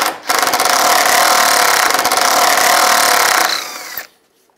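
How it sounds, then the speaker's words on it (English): A power driver with a T30 socket whirs loudly and steadily for about four seconds, backing out radiator bracket bolts on a 1999-2005 Volkswagen Jetta, then cuts off into near silence. "Take those out with a T30 socket."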